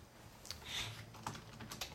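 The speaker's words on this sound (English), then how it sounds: "Watch the video to see me typing the tweet." Quiet clicking of computer keyboard keys as a tweet is typed, a few soft irregular taps close by with no voices.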